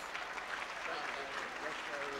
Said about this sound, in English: Let's give Don a big round of applause.